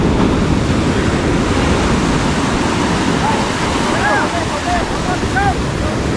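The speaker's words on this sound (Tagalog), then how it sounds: "Lalaki ng alon." Big ocean waves surge and wash in a steady, loud roar of surf mixed with wind noise, with people shouting briefly over the crashing water.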